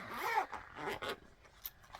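A zipper on a Vera Bradley bag is drawn along in a few quick, close, quiet rasping strokes, each trailing off into a faint scrape.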